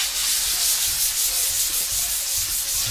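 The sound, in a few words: sanding motorcycle part with fresh sandpaper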